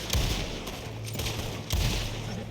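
Gunshots from an Evans repeater rifle in a video game, a few sharp, loud cracks spaced irregularly over a dull background rumble.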